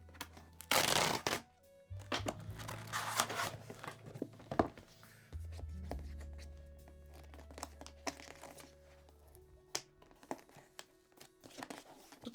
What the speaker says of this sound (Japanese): じゃあまず、記念なんですけど、サクッと、開封をしていきたいと思います